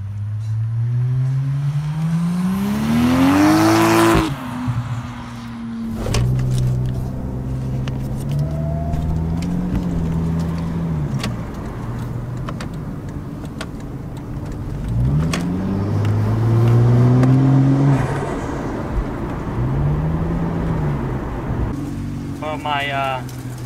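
A Toyota JZX90 engine revs and pulls through several accelerations with rising and falling whines, loud and close, with a brief high whoosh near the start and end.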